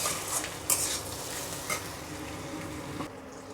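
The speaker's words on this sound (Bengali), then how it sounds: "সবজিগুলো ভাজা হয়ে গেছে" Vegetables and tomato frying in a pan for chilli chicken, a steady soft sizzle with a few clinks and scrapes of stirring, close and fairly quiet, with no voices.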